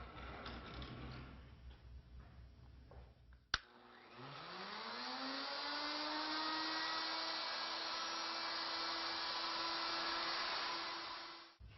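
A metal lathe motor spins up with a rising whine after a sharp click, then holds a steady mechanical hum and grinding as the cutter makes its third and final pass on a workpiece, stopping abruptly at the end.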